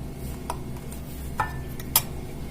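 A spoon stirs crushed biscuit cake batter in a bowl, giving soft scraping with a few sharp clinks against the side, close and fairly quiet.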